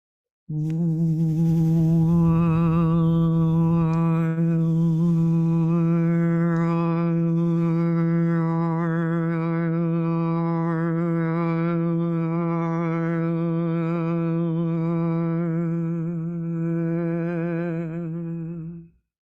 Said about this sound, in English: we're letting our cheeks puff up and almost like you're about to blow out birthday cake candles